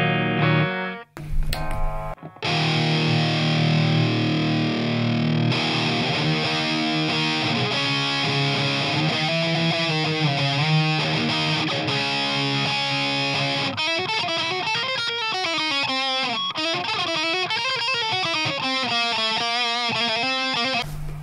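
A DOD Metal X FX70 distortion pedal on a Stratocaster with single-coil pickups plays loud, saturated electric guitar chords and sustained bent lead notes, continuous and close with no talking.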